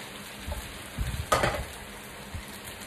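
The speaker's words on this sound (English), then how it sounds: "And I'm gonna add in my prawns." Prawns dropped into a hot wok for hawker-style char kuey teow give one short, close burst of sizzling frying, with quiet background kitchen noise before and after.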